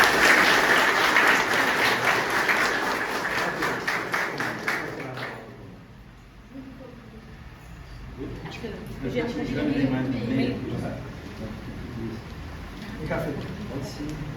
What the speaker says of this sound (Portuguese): uma salva de palmas também à comunidade de Criciúmal e ao HCC